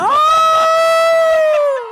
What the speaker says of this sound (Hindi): लड़कियाँ चिल्ला के बताओ, लड़कियाँ चिल्ला के बताओ.